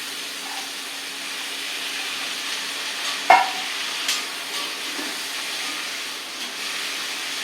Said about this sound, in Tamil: இதை வந்து இந்த எண்ணெயில் நம்ம எண்ணெய் வதக்கிறோம்